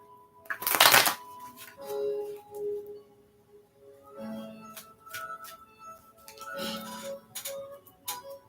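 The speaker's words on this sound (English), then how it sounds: "That's 2 decks to shuffle." Two decks of playing cards being shuffled in a quiet room, with a loud riffle near the start followed by softer bursts of flicking and riffling cards at intervals, close by and alone.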